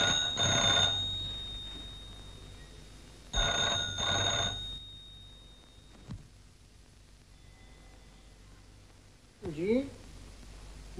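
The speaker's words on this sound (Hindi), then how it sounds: "सरकार आपका फोन।" An old-fashioned telephone bell rings in two loud trilling bursts, followed by quieter handling sounds, in a vintage 1950 Hindi film scene.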